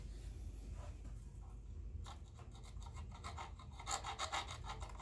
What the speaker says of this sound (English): I got a little round file.